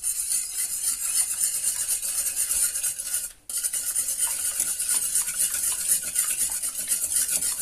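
Whisking eggs and batter for a homemade chocolate cake, a steady close scraping and swishing that runs continuously with one brief pause midway, no voices.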